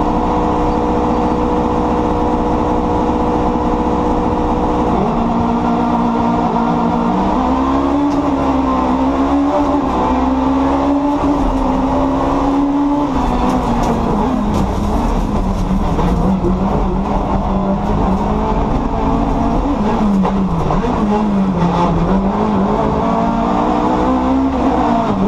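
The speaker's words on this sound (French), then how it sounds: "Un petit départ de Super 1600, c'était avec Valentin Comte en cam embarquée sur le tracé de la Varée l'année dernière." Super 1600 rallycross car heard from an onboard camera at a race start at the Varée circuit: a loud, sustained engine drone that revs up and climbs through repeated gear changes and rev swings, with no talking.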